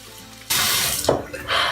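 Water from a bathroom sink tap runs steadily and splashes as someone rinses their face, close up and alone, with a brief gurgle partway through.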